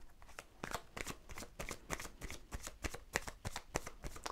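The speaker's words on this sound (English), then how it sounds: "I'm going to take a couple of cards on career and a couple of cards on love" Tarot cards are shuffled in a steady, rapid riffle of crisp slaps and flutters, close and fairly quiet, with no talking over them.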